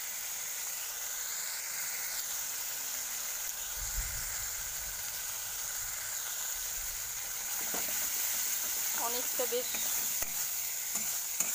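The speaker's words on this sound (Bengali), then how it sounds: "দেখো এই কষানোটা খুব ভালো করে কষিয়ে নিতে হবে।" Spice paste for a pabda fish curry sizzles in a pan with a steady hiss while a utensil stirs and scrapes through it, a few sharper scraping strokes near the end; a voice speaks briefly and quietly over the frying.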